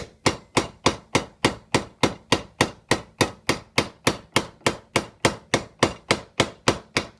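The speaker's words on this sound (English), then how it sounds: "you just work freehand, closing it up and down on the copper" A hand-operated grooving machine crimps copper sheet for a Guernsey lily wind sculpture, producing loud, evenly spaced metallic clanks in a steady rhythm of about three per second, close and alone.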